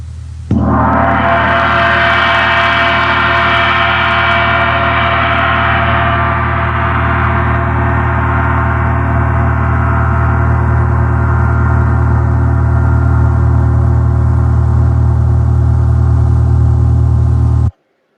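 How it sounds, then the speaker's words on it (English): An orchestral gong struck once with a mallet blooms into a loud, rich, sustained ringing that stays strong and slowly shimmers for over fifteen seconds before being cut off. "when they take that mallet and they strike the gong, the vibrations travel evenly through the metal"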